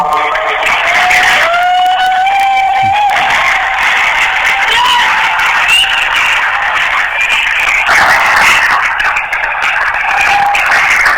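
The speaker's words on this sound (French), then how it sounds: "si vous pouvez encore offrir une offrande d'acclamation à l'Éternel" A church congregation cheering and applauding, loud close clapping mixed with whoops, shouts and sung-out cries from many voices, sustained throughout.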